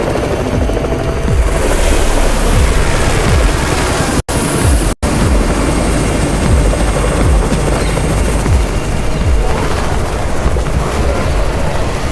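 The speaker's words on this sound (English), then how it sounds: "It's the Raven's chopper!" A helicopter in the zombie video game Undawn thunders overhead with continuous loud rotor chop, broken by two very brief dropouts in the middle, with no talk.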